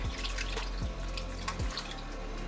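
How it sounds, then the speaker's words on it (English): Water poured into a pan of pasta on the stove while cooking a sauce, a steady running trickle with a few faint drips, fairly close and moderately quiet, with no talking. "I'm going to add some more water."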